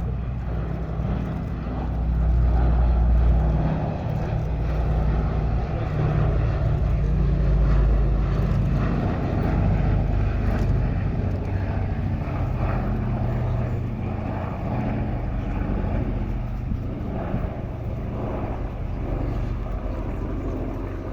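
Piston propeller engines of the Boeing B-17 Flying Fortress bomber at an airshow at East Kirkby, a steady loud drone with a deep throb that swells and eases slightly throughout, with no talk.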